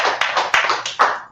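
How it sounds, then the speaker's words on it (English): A few people clap their hands in a quick, uneven run of sharp claps, loud and close, with no voices. "Clap it up, right?"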